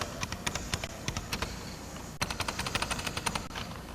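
Rapid keystrokes on a computer keyboard in an early-1990s OS/2 and Windows 3.1 PC setup, quick clicky taps in bursts, close and clear, with a short pause midway and no voices.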